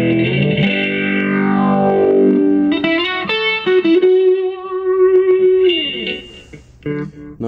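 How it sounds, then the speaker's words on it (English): A Korg AX1000G guitar multi-effects unit runs distorted electric guitar through phaser and flanger effects, sweeping whooshing tones over held notes and chords, loud and close with a short break of quieter notes near the end. "very nice phasers and flanges"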